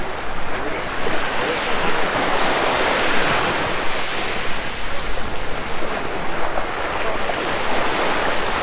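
Waves wash onto the shore at Haleiwa Alii Beach Park on Oahu, Hawaii, as a continuous, broad rush of surf close by, mixed with wind buffeting the microphone and no speech.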